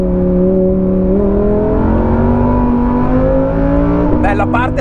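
A Lamborghini Huracán Performante's engine roars steadily, its pitch climbing in smooth stages as it accelerates, loud and close throughout.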